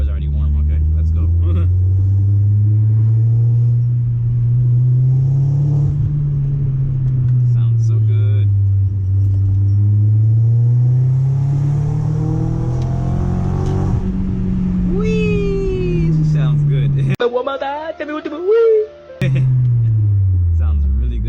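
A B6 Audi A4 fitted with a full ECS catback exhaust drives at night, its engine note rising and falling steadily through acceleration, loud and continuous with a brief gap near the end, while a person talks over it.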